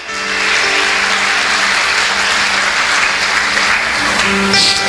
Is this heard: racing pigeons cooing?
no